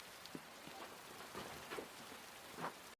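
Rain falling in a film scene, a soft, steady hiss of drops with a few faint patters on surfaces, quiet and continuous for a few seconds before cutting off abruptly.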